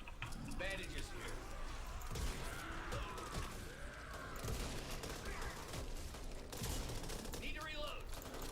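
Video game gunfire crackles in short bursts through a horror survival scene, mixed under a constant background rumble and occasional talk.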